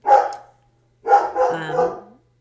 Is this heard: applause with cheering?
no